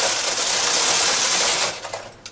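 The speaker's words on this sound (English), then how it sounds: "I move the carriage across one row" A knitting machine carriage slides across one row of needles, a loud continuous whirring rattle up close that runs for about a second and a half, then trails off into a few clicks; no one speaks.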